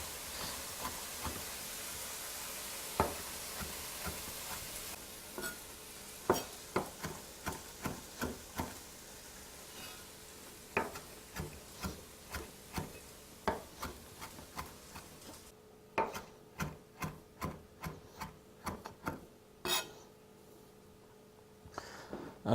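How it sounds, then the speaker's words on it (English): Fresh parsley chopped finely with a large knife on a board, a long run of sharp, close knocks in uneven bursts and quick rhythmic spells, with a steady hiss from a cooking pan in the background. "So just chop it up as finely as you can."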